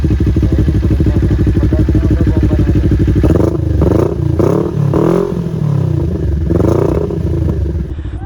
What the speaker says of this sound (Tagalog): Mas maganda tunog nito kasi sa mga typical na parallel twin, pero parang hindi pa siya 270 crank.